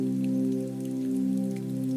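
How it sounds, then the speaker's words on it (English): Steady rain falls on a city street and pavement at night, a dense, even patter that holds constant throughout, with a low, smooth sustained tone underneath and no voices. "Rain falls steadily, turning the pavement glossy."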